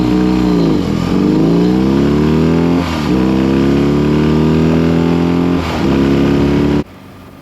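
A BMW R18 Classic cruiser motorcycle accelerating hard, its engine loud and close, revving up through several gear changes with short dips between pulls, then cutting off abruptly near the end.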